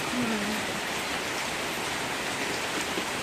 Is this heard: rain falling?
yes